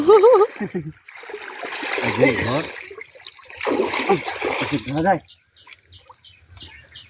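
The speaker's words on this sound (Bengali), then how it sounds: "এই যে আমার দাদা মাছ ধরতে নামছে পুকুরের মধ্যে" A man wading into a village pond to catch fish, water splashing and sloshing in bursts around him, close by, under intermittent talk and a few bird calls.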